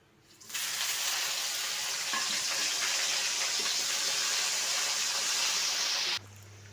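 A second batch of prawn pakoda batter goes into hot oil, and a loud, steady hissing sizzle holds for several seconds before it drops off abruptly.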